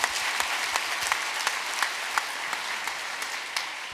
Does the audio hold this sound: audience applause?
yes